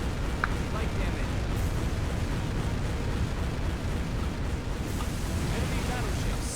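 Battleship guns and explosions rumble in Warship Gunner 2, a dense continuous roar of blasts and churning water, loud and close, with a brief sharp crack near the start.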